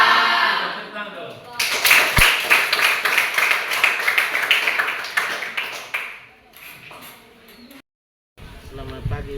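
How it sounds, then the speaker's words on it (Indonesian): Clapping at the close of an Indonesian school coaching session, a loud burst of many hands lasting several seconds and then tapering off, followed by a short silence and people talking. "Tepuk tangan dulu."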